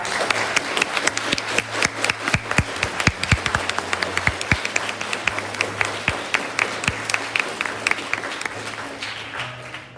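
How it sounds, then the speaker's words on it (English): Applause from a school audience at a ninth grade honors day program, sustained clapping from many hands with sharp individual claps standing out nearby, steady throughout with no talk. "let's give our ninth grade students a round of applause."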